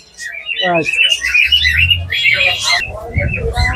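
Parrots in a bird shop in Bangladesh let out sharp, close squawks and chirps in quick bursts, with people talking among the calls.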